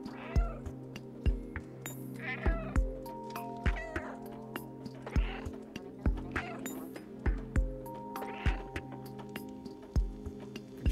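A cat meows repeatedly in the game Stray, several short mewing calls spaced a couple of seconds apart over soft game music and light footfall-like taps.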